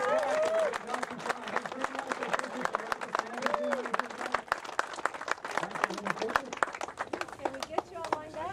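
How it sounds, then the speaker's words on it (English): Crowd applause at a Saturn V model rocket launch day gathering, scattered claps and a few sharp hand smacks rising and falling over about eight seconds, with people talking and murmuring in the background throughout. "So, big round of applause for these guys."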